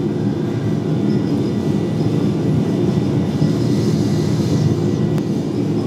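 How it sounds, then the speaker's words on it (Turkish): An airliner's engines at takeoff thrust during the takeoff roll make a steady, loud, low roar with rumbling runway noise, continuous and unbroken across the whole stretch, with no talking. "Take off thrust, set."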